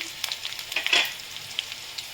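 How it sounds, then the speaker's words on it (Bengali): Potatoes with turmeric fry quietly in a pan for a Bengali bottle gourd greens dish, giving a soft, steady sizzle with scattered light crackles and pops. No one speaks. "আলুটা একটু ভালো করে ভেজে নেব"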